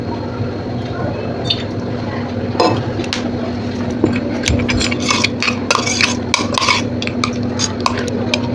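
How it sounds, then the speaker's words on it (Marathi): Spoon scraping and stirring a ground cumin, garlic and green chili paste in a pan, with wet squishy clinks and scrapes that grow busier partway through, steady and close. "एकदा फिरून घेते आपण हे जिरं लसूण मिरची वाटून घेतली"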